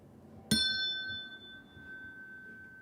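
A single bell is struck once, a sharp metallic ding that rings out and slowly decays, clear and close with no talk.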